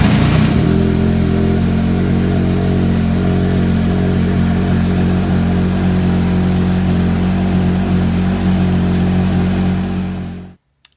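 Yamaha YXZ side-by-side fitted with a MoTeC M1 auto-start system: the engine cranks and catches almost at once, then runs at a loud, steady idle close by for about ten seconds before shutting off abruptly.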